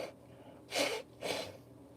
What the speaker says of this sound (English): blow my nose again.